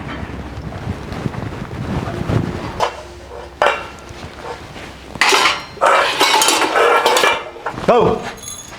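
Dishes, pots and utensils clink and clatter in bursts while being washed at a home, with wind noise and a faint voice in the background.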